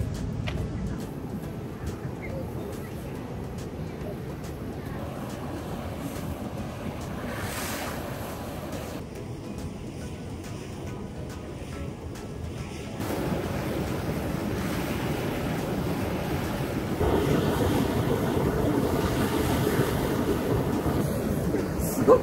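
Roaring boiling hot spring at one of the Beppu hells in Oita, Japan, a steady loud rushing and hissing that swells stronger toward the end, with no talk.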